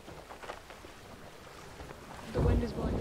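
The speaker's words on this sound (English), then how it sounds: "I want to make sure the storm isn't coming over here first." A storm in the video game Sea of Thieves with rolling thunder and steady rain, a low rumble swelling loudly near the end over a constant wash of rainfall.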